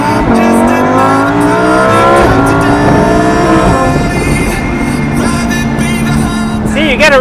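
A Lamborghini Performante Spyder sports car engine revs loud and close, its pitch climbing and falling through gears, with a brief tire squeal near the end.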